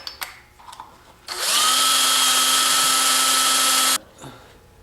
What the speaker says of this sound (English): That's the bit I use to drill through the plastic bowl.